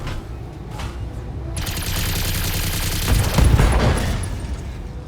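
Machine guns firing in a mech combat video game, a quiet patter that swells into a dense, continuous rattling burst, loudest past the midpoint before easing off.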